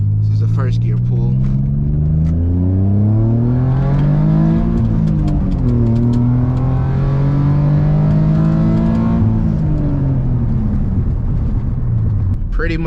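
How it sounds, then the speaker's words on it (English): Infiniti G35 six-cylinder engine roaring through a first-gear pull, revs climbing steadily in loud rising harmonics, dipping briefly and climbing again before easing off near the end, close and continuous. "I'm gonna give you guys a short pull just to show you what she actually is capable of. This is the first gear pull."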